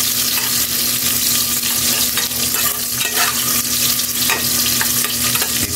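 Garlic and onion sautéing with ginger in a hot pan, a loud, steady close sizzle with occasional stirring scrapes and a constant low hum underneath, no talking.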